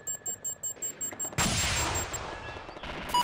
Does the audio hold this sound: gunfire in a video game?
yes